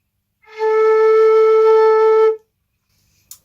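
A single clean, steady note blown on a quena flute rings loud and close for about two seconds, then stops abruptly into silence.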